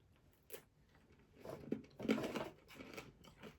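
A Polish snack is bitten and crunched close to the mic, a few crisp cracks followed by chewing crunches in irregular bursts, quiet and without talk.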